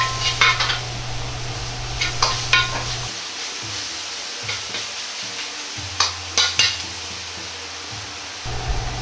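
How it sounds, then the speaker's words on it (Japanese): Onions being stir-fried quickly over high heat toward caramelization for butter chicken curry, a steady sizzle with repeated scraping and stirring strokes of a utensil against the pan, close and fairly loud with no talk. "また強火にして焦げないように手早く炒めていきます"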